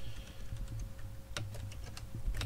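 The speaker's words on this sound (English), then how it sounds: "you just type in what you want to put in that text box" Close computer keyboard typing, a quick uneven run of light key clicks with a few sharper taps over a quiet background hum.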